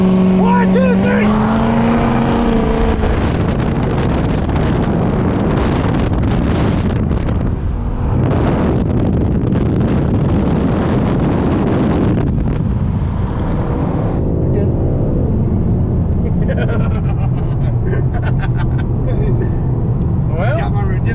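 A Chevrolet Camaro ZL1 engine roars hard during a roll race from a 25 or 30 roll, with loud, sustained acceleration heavily buffeted by wind noise and people talking at the start.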